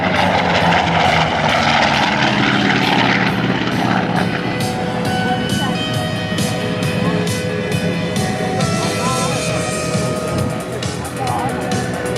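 Vintage warplane from the Class of 45 flying at the Westmoreland County Airshow, its propeller engine droning loud and steady throughout, with a continuous broad roar and shifting tones as it passes.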